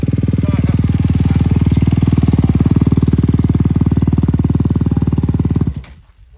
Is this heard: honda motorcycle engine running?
yes